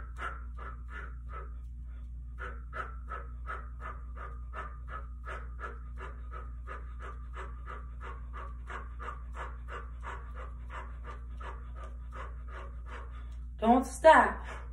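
Heavy rhythmic panting during an arm workout with punches: around two dozen short, even breaths at a steady fast pace over a low constant hum, ending with a couple of louder bursts.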